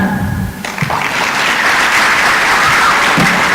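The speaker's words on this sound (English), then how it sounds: "Can we give Monica Bladescu another round of applause?" An audience at a national exhibition bursts into loud, dense applause after a short stretch of voice, the many claps continuing steadily and close for a few seconds.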